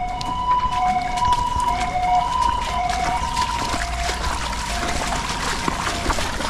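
A police siren alternates between two tones in a repeating wail, fairly loud and steady over a continuous outdoor background, with no talk.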